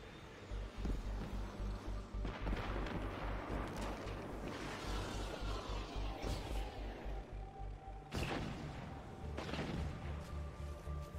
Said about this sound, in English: I heard those explosions from here.